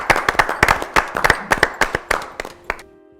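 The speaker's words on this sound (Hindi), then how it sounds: "टीम्स के लिए तालियां।" Scattered hand claps for the winning team of a history quiz show, a small group clapping sharply and unevenly in close bursts before trailing off into quiet.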